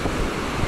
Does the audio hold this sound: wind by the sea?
yes